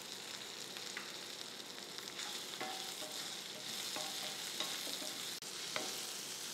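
Coriander seeds frying in hot oil while making egg curry, a continuous close sizzle with scattered crackles and a few sharp pops, no talking.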